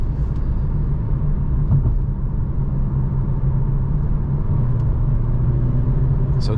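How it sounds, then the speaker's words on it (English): A Renault Clio E-Tech 145 hp full hybrid accelerating on a road at night, heard from inside as a steady, loud low rumble of engine and road noise with no let-up. "So we can speed up nicely here"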